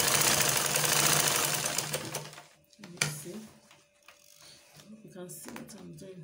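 A sewing machine stitches a shift dress in a steady mechanical whir that runs for about two seconds, then stops, followed by short bursts of handling clatter and a few brief restarts, with a voice talking faintly in the background.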